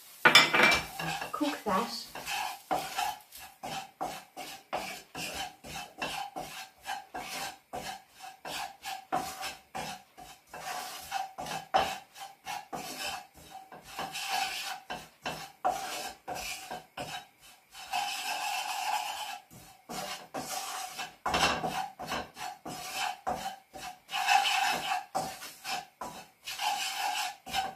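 Turmeric and curry powder tipped into a pan for a chicken curry and stirred, with busy metal scraping and clinking of a utensil against the pan going on almost continuously, close and fairly loud, with a brief word spoken.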